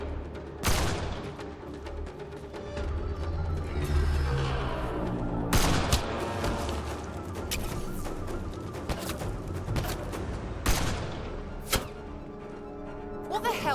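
Heavy gunfire in the sci-fi shooter Mass Effect Andromeda, with sharp loud shots and bursts over a dense, continuous battle din, plus shouted voices.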